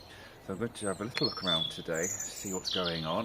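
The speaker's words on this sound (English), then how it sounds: "you can hear the birds singing like I just said" Garden birds chirp and trill in a walled garden in early spring, scattered bright calls under someone talking nearby.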